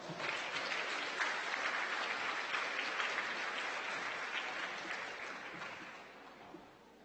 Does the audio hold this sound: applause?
yes